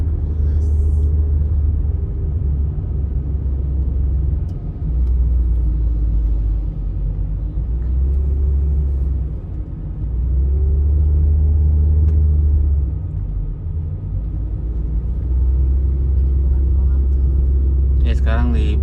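A Peugeot 807 climbs uphill toward Puncak after an engine repair, its low, steady engine rumble and road noise swelling and easing over nearly twenty seconds, with occasional voices inside the car.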